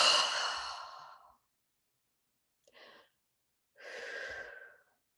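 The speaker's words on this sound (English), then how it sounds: "One more deep breath." Deep, slow breaths during a guided meditation: a long audible exhale, a short faint breath after a pause, then another steady sigh-like exhale, all close and quiet with no talking.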